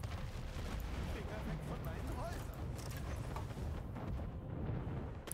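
Artillery and ship gunfire during a naval battle in the video game Anno 1800, a dense continuous rumble of booming shots and blasts under someone talking in German.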